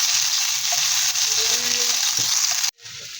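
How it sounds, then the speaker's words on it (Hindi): Freshly crushed ginger-garlic paste sizzles loudly in hot oil in a pan, a steady bright hiss with faint stirring, cutting off abruptly near the end. "तो अब पैन में हमने 2 से 3 टेबल स्पून ऑयल डाला, और ये हाफ़ टेबल स्पून अदरक लहसुन कुटा हुआ डाला है"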